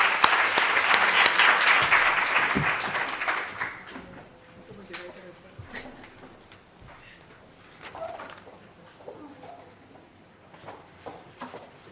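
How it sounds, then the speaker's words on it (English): Symposium audience at a tobacco-control meeting applauding the speakers, loud dense clapping that fades out after a few seconds, leaving sparse scattered claps and quiet room noise. "Just like to close by giving another round of applause of thanks to our speakers."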